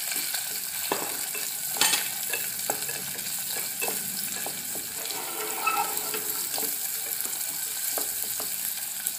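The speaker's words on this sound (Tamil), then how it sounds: "இப்போ வெங்காயத்தை ஆட் பண்ணிக்கிறேன்." Chopped onion sautéing in hot oil with cinnamon and cloves for prawn biryani, a continuous close sizzle broken by spatula scrapes and stirring clinks.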